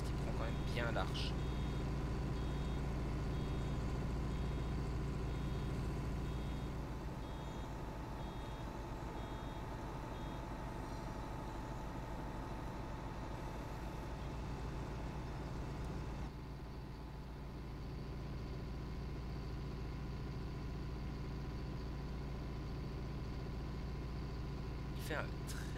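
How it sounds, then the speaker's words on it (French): A steady low tractor engine drone from Farming Simulator 19 hums throughout, with a faint high beeping early on and a slight drop in tone partway through. "Fait un très très beau bruit ce tracteur, autant de l'extérieur que de l'intérieur je trouve."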